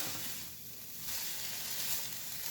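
Vegetables including peppers soften in a pan with Alfredo sauce for rasta pasta with jerk chicken, giving a faint, steady hiss of gentle sizzling that swells slightly partway through, with no voices.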